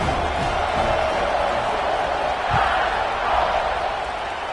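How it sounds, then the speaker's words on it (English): Football stadium crowd roars steadily just after a kickoff, a broad sustained cheer with no clear breaks, loud and continuous across the moment. "They're set to kick it off, and this crowd now ready to get behind them."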